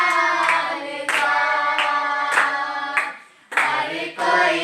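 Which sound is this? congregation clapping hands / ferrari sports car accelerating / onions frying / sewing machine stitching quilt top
congregation clapping hands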